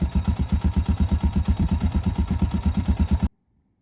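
Motorcycle engine idling high in the mountains of Tibet, a loud, close, steady rhythmic thumping that cuts off abruptly near the end.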